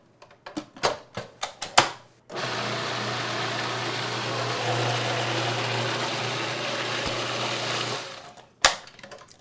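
A blender purees squash in one continuous loud whirring burst of about six seconds. Sharp knocks and clatter come before it starts, and another clunk follows once it stops.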